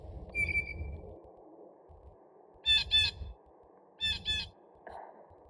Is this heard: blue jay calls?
yes